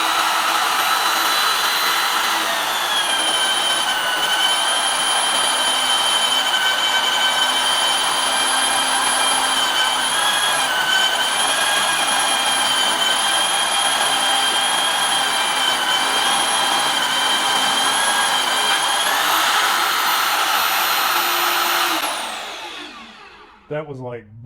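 A Vevor magnetic drill with a new bit cuts through metal, a loud, steady high-pitched motor whine and cutting drone held close for about twenty seconds before it winds down and stops.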